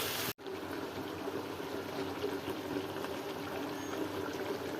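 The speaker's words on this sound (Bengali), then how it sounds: "ভালো করে কষানো হলে পানি দিতে হবে। পানি দিই," Water is poured into a cooking pot of kabsa, a steady, close gushing stream that continues after a brief cut at the start, with no talking.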